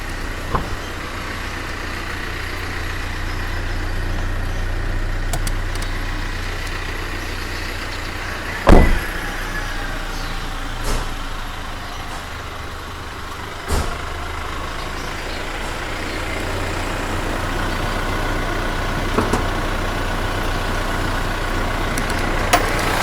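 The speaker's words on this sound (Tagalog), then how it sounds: "Check natin yung engine." A 2022 Toyota Commuter Deluxe van engine runs at a steady low idle, a constant rumble close by with a few scattered knocks and clicks over it.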